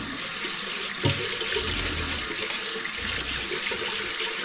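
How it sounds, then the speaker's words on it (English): Rice being rinsed by hand in water to wash off the dusty rice flour, with steady running and swirling water throughout and a few louder sloshes, close and continuous with no talking. "Wash all the dust off, the rice flour."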